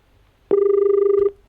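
Steady telephone line tone heard after a call drops during a live television call-in show, a single loud sustained beep lasting under a second, alone.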